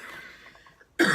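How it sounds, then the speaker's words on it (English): A single loud cough bursts out abruptly at close range after a quiet, muffled stretch, short and harsh. "Sorry, I had to cough."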